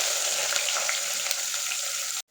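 Chopped onions sizzle steadily in hot oil with curry leaves, garlic and dried chillies, a close, continuous frying hiss that stops abruptly at the end.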